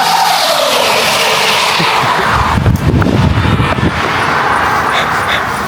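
A Jaguar S-Type with a V6 and manual gearbox drifts with loud, sustained tire squeal and a revving engine. The sound grows harsher and more chaotic midway, then settles into a steady roar.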